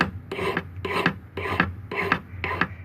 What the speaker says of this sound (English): after I've filed it, I'm going to go to the extra effort of sanding it